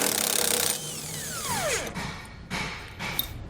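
18mm socket removing suspension nuts on a Dexter E-Z Flex kit fitted to a 2017 Grand Design Reflection trailer: a power tool spins down with a falling whine, then short mechanical bursts follow, fairly quiet and close.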